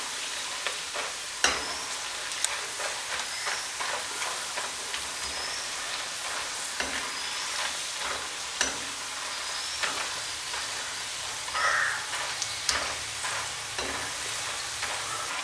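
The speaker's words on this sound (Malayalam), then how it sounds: "കുറേശ്ശെ കുറേശ്ശെ ഇട്ട് കൊടുത്ത് ചെയ്താൽ മതി, പെട്ടെന്ന് ഫ്രൈ ആയി കിട്ടും." Dried tapioca sweet balls deep fry in hot oil with a steady, moderately quiet sizzle, broken by scattered sharp pops and crackles throughout, and no voices.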